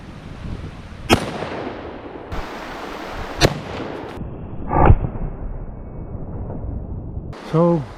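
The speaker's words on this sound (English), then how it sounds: "So up first, the 308 against the aluminum milling blocks." A .308 rifle fired at 1-inch-thick aluminum milling blocks outdoors gives a few sharp, loud cracks spaced a second or two apart, each followed by a short rumbling decay.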